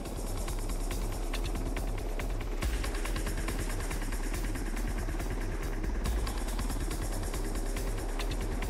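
A UH-60 Black Hawk military troop-carrier helicopter drones on steadily and loudly, its rotor thump and turbine whine filling the whole stretch without pause.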